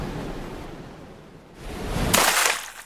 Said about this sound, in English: Where's all this wind coming from?